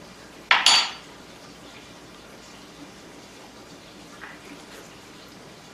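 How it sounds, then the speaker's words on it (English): A spoon knocks against a glass of green juice, a bright clinking burst near the start, then quiet stirring with a faint tap and another clink at the end, close and fairly soft. "I'm just going to give that a quick stir."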